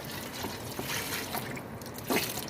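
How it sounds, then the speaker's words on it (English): Beef broth left over from a vegetable beef soup pours into a pot of soup, a brief, close, splashy trickle with a small gurgle near the end. "I'm going to throw in the rest of my beef broth from my vegetable beef soup"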